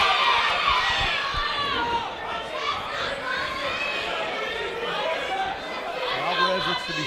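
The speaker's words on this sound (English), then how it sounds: "the crowd is so excited about this fight" An excited crowd at a fight buzzes with dense overlapping chatter, shouts and cheering, loud and continuous throughout.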